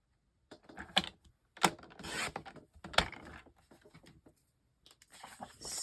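Scissors cutting paper for a white flowers craft journal kit, a series of close, crisp snips and rustles in short bursts with brief pauses between them.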